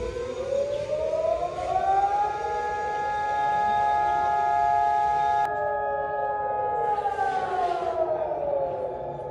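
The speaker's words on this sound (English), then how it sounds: "So at 10 a.m. there's going to be a siren, which I'm going to film for you guys." A civil defense siren in Israel wails steadily, rising in pitch and holding a long, loud sustained tone before starting to fall away.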